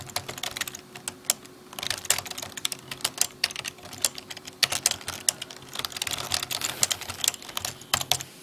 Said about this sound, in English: just going to type in a basic message